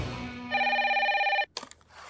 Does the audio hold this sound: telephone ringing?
yes